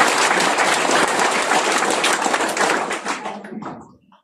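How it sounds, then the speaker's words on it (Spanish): A crowd gathered for a debate on a sacred-day law in the Ngäbe-Buglé region applauds, with loud dense clapping that holds for about three seconds and then quickly fades to silence. "Un aplauso para ustedes."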